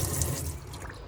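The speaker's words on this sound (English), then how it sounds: "you will have pressurized water coming out through the tap" Pressurized cold water gushing steadily from the tap in a Nu Venture Moniche campervan, a continuous close splashing stream into the sink.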